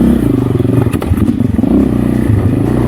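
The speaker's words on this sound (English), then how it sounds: "As for the bike, the Husqvarna FE350, I absolutely loved riding that thing." A Husqvarna FE 350 dirt bike engine drones loudly and steadily during an off-road ride, with rattles and clatter from the terrain, near and continuous, with no talking.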